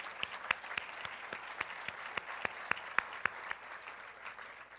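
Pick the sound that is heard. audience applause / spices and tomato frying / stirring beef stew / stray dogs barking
audience applause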